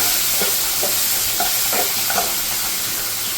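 Soya chunks with soy sauce are stirred in a frying pan, a loud continuous sizzle carrying repeated soft scraping strokes of a spoon, close up with no voices.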